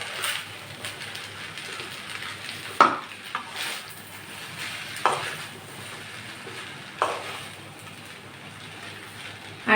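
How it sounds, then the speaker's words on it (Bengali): Chowmein noodles seasoned with black pepper are stirred in a pan, giving a soft continuous hiss with several sharp utensil clinks and scrapes against the metal at irregular intervals, with no talking. "গোলমরিচের গুঁড়া দেওয়ার পর একটু নেড়ে চেড়ে মিশিয়ে দিচ্ছি"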